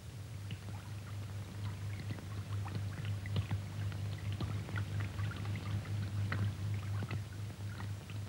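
Water leaks into a submarine with a steady pouring and dripping, scattered drops and splashes over a low, constant hum inside the hull.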